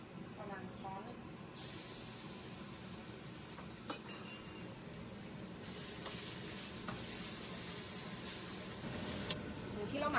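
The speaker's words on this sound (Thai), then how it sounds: "เตาให้ร้อนแล้วก็ใส่น้ำมันพืชนะคะ หลังจากนั้นก็ใส่กระเทียมไปเลย" Garlic dropped into hot vegetable oil in a pan starts a hissing sizzle that jumps louder after a quiet opening and stays steady, with a clink or two and someone speaking over it.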